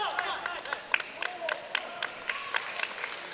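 Crowd at a college table tennis team match in Texas claps and cheers in scattered bursts, with sharp hand claps and shouts rising over a steady murmur, fairly distant in a large hall.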